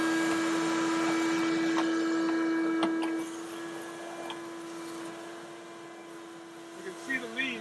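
A gutter vacuum pulls leaves out of a house's eaves trough, giving a steady suction whine with a constant tone, loud at first, then dropping to a quieter hum after about three seconds, with a few knocks and rustles near the end.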